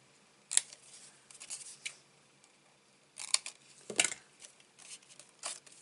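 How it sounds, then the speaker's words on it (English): Scissors snip through fun foam ends in a few sharp, close, quiet cuts, spaced apart with small rustling between them. "Snip away the ends."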